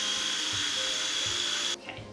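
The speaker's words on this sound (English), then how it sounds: "We're gonna put our steamed cauliflower into our food processor." A food processor blends steamed cauliflower with olive oil in a steady, close, high-pitched motor whir, then cuts off abruptly near the end.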